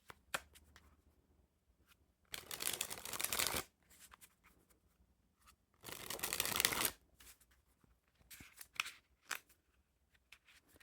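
Plastic bridge-size playing cards being packet cut by hand, giving two longer, crisp bursts of riffling shuffle noise and scattered sharp clicks and snaps, close and quiet, with no talk.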